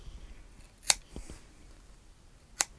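Scissors trim a loose yarn end on a knitted jacket, giving two sharp, close snips a couple of seconds apart against near silence, with a faint soft knock between them.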